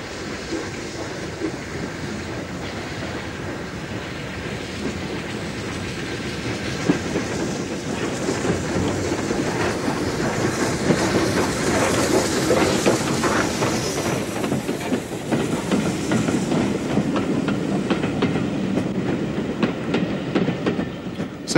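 Port Line, a rebuilt Merchant Navy class Southern Railway steam locomotive, runs on the Bluebell Railway with a continuous rumbling roll and clattering wheels that grows louder and busier partway through.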